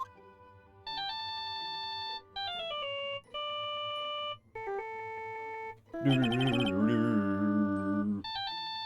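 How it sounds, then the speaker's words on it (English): A phone ringtone from the Phoenix Wright: Justice For All video game plays a bright, repeating electronic melody of short tonal phrases with brief pauses, building to a louder, denser burst near the end, with no talking. "I bet it was this ringtone that caused it."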